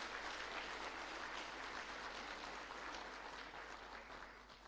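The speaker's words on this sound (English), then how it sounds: "Please, can we have a large round of applause for all these students?" Continuous applause from a school annual day audience for students, a dense even wash of many hands clapping, heard at some distance and slowly tapering off.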